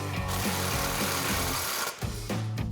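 A power tool tightens an exhaust clamp on an MBRP Armor Pro single exhaust fitted to a 2024 Tacoma, giving a close, continuous mechanical buzz and ratcheting, briefly stopping just before the end and then resuming.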